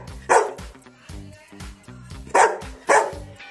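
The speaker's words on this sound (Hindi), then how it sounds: "क्या भौंकने से नीचे चला जाएगा?" A pet Labrador dog barks repeatedly at home, with several loud, close barks spaced about half a second to a second apart and softer yips between them.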